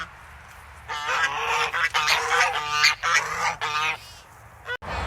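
A small flock of backyard farm geese honk loudly and close by in a rapid, overlapping run of nasal calls, then fall briefly quiet before a last short honk.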